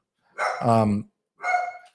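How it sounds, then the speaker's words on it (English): A dog barks twice, a longer, deep, full-throated bark followed by a shorter one, close and loud with no talking over it. "I don't think my dog likes that one either. She hates it."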